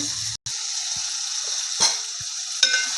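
Tomatoes fry in oil for a bottle gourd tamarind stew, a bright steady sizzle heard close. It cuts out for a moment early on, and a few soft knocks of a spoon sit under the sizzle.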